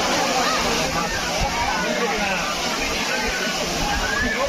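Water from the Old Courtallam waterfall pours down steadily, making a loud, unbroken rushing and sloshing wash. It is close and continuous, with faint crowd noise underneath.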